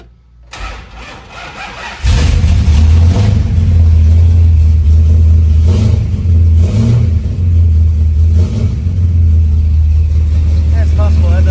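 A Monaco car engine cranks and catches after about two seconds, then runs loud and close with a steady idle and a few revs, following a charging system repair.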